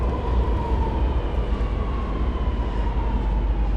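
An automatic driverless train rumbles steadily nearby, with a low continuous hum and faint mechanical whine throughout.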